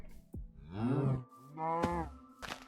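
A cow in a video game lets out two drawn-out moos separated by a short pause, loud and close, with a few brief clicks and thumps from the game around them and no talking.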